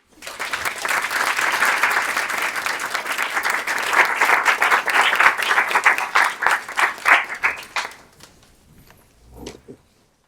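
An evening lecture audience claps to welcome two speakers with loud, sustained applause that swells for about eight seconds, then thins out into a few scattered claps and stray noises.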